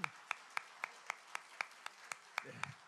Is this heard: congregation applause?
yes